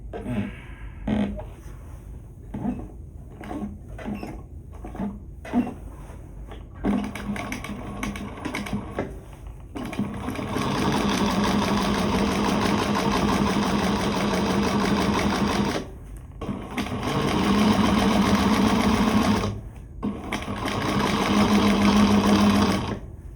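Sewing machine stitching a shoulder bag: short start-stop bursts of rapid mechanical clatter at first, then long sustained runs of steady whirring stitching, close and loud, with no talking.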